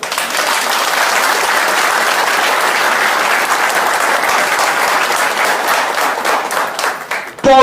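Audience at a public meeting about building a road and bridge applauding, a loud, sustained wash of many hands clapping that tapers off toward the end.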